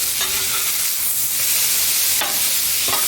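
Shrimp and brussels sprouts fry on a hot griddle, a loud, steady close sizzle with occasional scraping stirs of a spatula against the metal surface.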